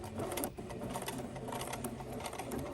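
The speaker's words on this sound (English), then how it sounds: "we are going to start sewing at a 1/4 inch seam allowance" A sewing machine stitches the side seam of a drawstring bag at a quarter-inch allowance, a continuous close rapid mechanical whirr with fast needle chatter, running alone without talk.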